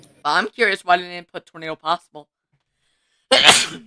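A single sharp sneeze near the end, close and loud, following someone speaking, set during a severe weather livestream in Arkansas.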